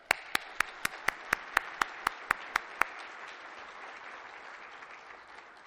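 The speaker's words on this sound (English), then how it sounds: "Please join me in giving them a round of applause." Audience applause at the 2015 SelectUSA investment summit: a run of about a dozen sharp, evenly spaced close claps over a softer spread of crowd clapping that carries on alone once the loud claps stop.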